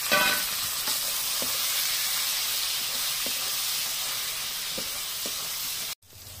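Garlic and tomato frying in a pan for a village meat curry, a steady loud sizzle and hiss with faint stirring taps, close up, ending abruptly near the end.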